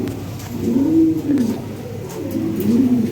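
Fancy pigeons coo nearby in two low, swelling phrases, each rising and falling, fairly loud over a faint steady background.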